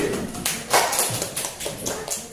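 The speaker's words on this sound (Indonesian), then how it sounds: "tepuk tangan" Students clapping hands in a classroom lesson, a short burst of quick, uneven claps close by with a murmur of voices.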